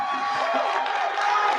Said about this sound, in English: Y'all been booing me and clapping for him.